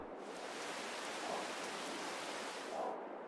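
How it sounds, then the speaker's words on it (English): Light rain falls outdoors, a soft, even, steady hiss of drops heard alone at fairly low level. "There's the rain."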